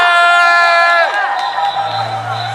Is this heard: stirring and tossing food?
no